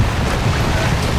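Steady wind and sea swell around a sailboat in Arctic waters near the first ice of the Northwest Passage, a constant broadband rush with low rumble and no pauses.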